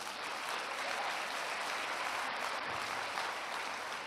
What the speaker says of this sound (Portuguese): Aplauda o Senhor pela vida do pastor Gesiel.